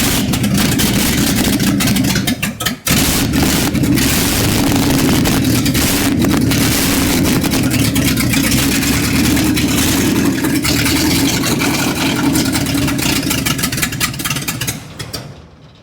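A 1955 Chevy truck engine cranks and then runs, loud and close, a steady rough mechanical roar with a brief stumble early on before dying away at the end.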